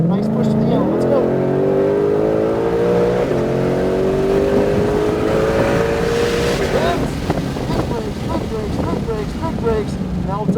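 A Shelby GT500 accelerating around a race track, its engine note climbing steadily in pitch for several seconds before lifting off, loud and close with wind buffeting throughout.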